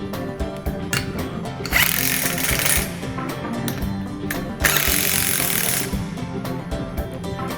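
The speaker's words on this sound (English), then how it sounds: "Next, you will tighten your two 17mm bolts." Two 17mm bolts are tightened, heard as two separate bursts of loud, buzzing tool noise about a second long each over a low mechanical background, with no speech.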